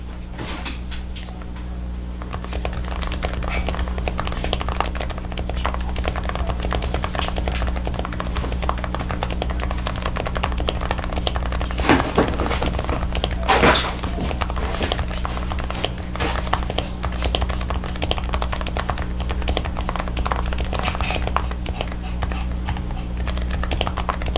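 Steady typing on a Varmilo Sword 68 mechanical keyboard makes a continuous clatter of keystrokes over a low constant hum, with a few louder clicks midway, while a person talks intermittently.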